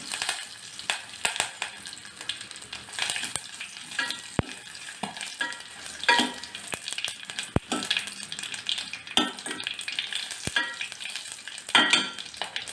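Curry leaves, dry red chillies and asafoetida frying in hot oil for a tempering, with a close crackling sizzle, spitting pops and intermittent stirring and scraping against the pan.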